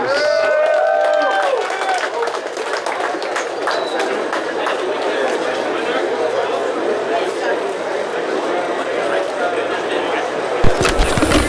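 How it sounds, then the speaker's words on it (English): A crowd at the Houston Golden Gloves amateur boxing tournament claps and chatters steadily at an indoor venue, with voices mixed into the applause. "Let's give these guys a round of applause"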